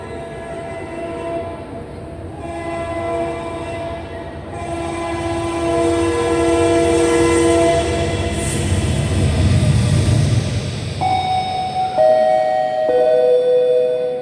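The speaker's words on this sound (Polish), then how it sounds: "Pociąg pospieszny z Nazaretu wjeżdża na tor ósmy przy peronie czwartym." A recorded train sound effect played in a school carol-singing play: a loud train rolls steadily into a station, its rumble swelling midway, followed by several sustained horn blasts near the end.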